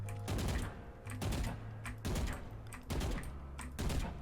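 Bursts of rapid gunfire from a rifle in the tactical shooter game Valorant, four short volleys of a few seconds each separated by brief pauses, loud and close.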